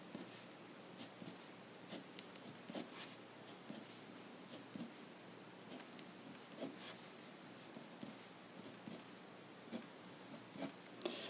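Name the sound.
writing math on a board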